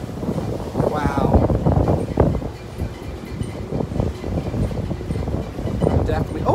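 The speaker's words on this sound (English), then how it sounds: "that's my outfit blowing in the wind" Wind gusting across the open deck of the Staten Island Ferry in New York, a steady rushing buffet over the microphone with the low rumble of the boat beneath, while a person talks throughout.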